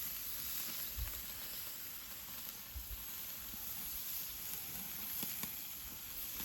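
Steak and shrimp kabobs sizzle steadily over a hot outdoor fire, a constant close hiss and crackle with a few sharper pops scattered through it.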